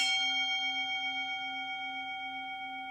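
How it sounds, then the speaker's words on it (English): A single bell strike rings out with a bright attack, then a long, steady tone that slowly fades and sustains for several seconds. "A bell like this is really good for announcing things, because they last."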